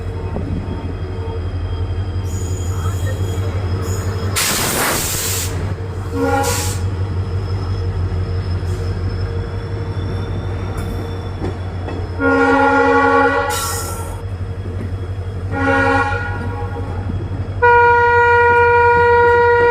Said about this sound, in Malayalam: നമ്മുടെ ട്രെയിൻ അങ്ങനെ ഇതപ്പം വീണ്ടും പുറപ്പെട്ടിരിക്കുകയാണ്